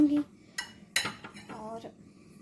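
A metal spoon lifted out of a bowl of nankhatai dough made with desi ghee clinks sharply two or three times at close range while someone talks.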